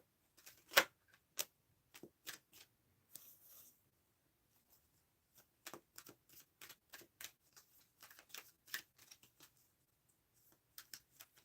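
Tarot cards being shuffled by hand, soft scattered riffles and taps in irregular bursts with pauses, faint and close in a quiet room.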